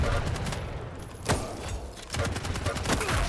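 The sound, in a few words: gunfire in video game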